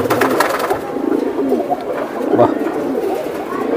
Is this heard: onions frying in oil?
no